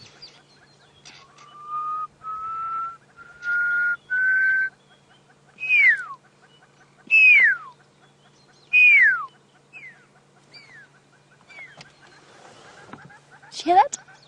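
A person whistles to imitate a pearl-spotted owlet on an evening safari drive. First come several sustained, slowly rising notes, then a series of clear, falling whistles spaced evenly, loud and close.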